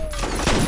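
Gunfire in the first-person shooter game F.E.A.R., a loud, dense burst of shots with booming impacts, close and continuous for under a second.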